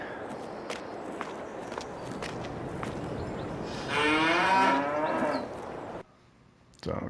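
Cattle in a large cow barn in Farming Simulator 22 let out a loud drawn-out moo over steady barn ambience and footsteps, then the scene cuts to near silence before a brief final sound.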